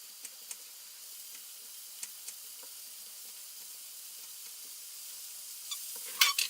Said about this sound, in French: On va pouvoir les couper en morceaux et les mettre dans la poêle.